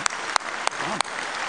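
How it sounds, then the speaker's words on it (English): Audience applause at the world premiere of the 2026 Ford Ranger Super Duty V6, a steady wash of crowd clapping with a few sharp, close claps standing out. "Again, a round of applause."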